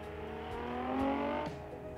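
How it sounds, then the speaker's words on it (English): A blue hardtop Nissan Miata on an autocross course revs through its line, the engine note rising and falling under steady strain and carrying at moderate distance. "Here's a blue, hardtop Nissan Miata finding his line."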